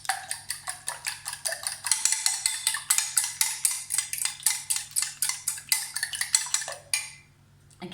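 Buttermilk is beaten into scone mixture in a bowl, a steady rhythmic clatter of utensil against the bowl repeating quickly for several seconds before stopping.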